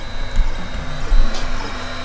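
An Atomstack X7 Pro laser engraver running as it engraves metal, giving a loud, steady mechanical whir with low motor drone and small pulses throughout, close by and without speech.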